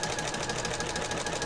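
A sewing machine stitching around the edge of a scrappy fabric journal cover, a steady, rapid mechanical chatter at close range with no pauses.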